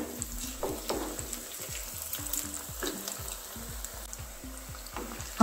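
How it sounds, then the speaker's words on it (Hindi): Cauliflower pakoras frying in hot oil to a light brown, giving a steady close sizzle with a continuous bubbling crackle throughout, no talking. "और लाइट ब्राउन होने तक सेकेंगे।"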